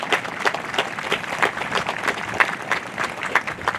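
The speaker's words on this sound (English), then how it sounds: "Let's give a big round of applause for them." A crowd applauds, a steady patter of many hands clapping at moderate volume for a few seconds.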